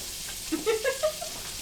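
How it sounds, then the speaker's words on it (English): Potato cubes for hand pies sizzle briefly as they hit the hot pan, a few short bursts of frying that fade after about a second, with no talk. "Listen to that sizzle."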